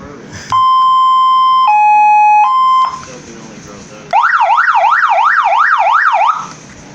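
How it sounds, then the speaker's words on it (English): Siren horn fitted to a motorized bicycle, loud and close, sounding two-tone steady wails followed by a fast warbling yelp, with short pauses between patterns. "This horn."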